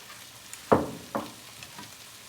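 Persian-style eggs with chives frying in a pan give a soft, steady sizzle, broken by two sharp scraping stirs and a few lighter touches, with no talking.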